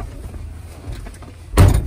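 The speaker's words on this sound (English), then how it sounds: "Close the door." A truck cab door shuts with a single loud, close thud after a stretch of quiet cab rumble.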